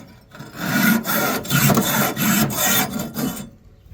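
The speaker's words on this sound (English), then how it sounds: "To clean a grill grate, there's a tool, spiral wire brush, fits into the slot" A spiral wire brush scrubs the slots of seasoned grill grates, giving about seven loud rasping back-and-forth strokes in a steady rhythm, close and alone before it stops.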